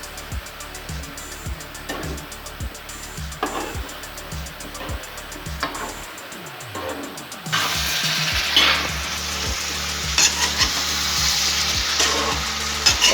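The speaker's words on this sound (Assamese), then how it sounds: "5 মিনিটমান লৰাই ভাজি থাকিম।" Bottle gourd stir-fried in a hot pan for an Assamese home-style curry, with a steady loud sizzle and regular scraping strokes of the spatula, the frying growing brighter and hissier partway through.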